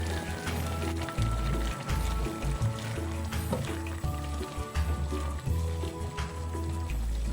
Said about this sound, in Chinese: 盖上锅盖，再次煮开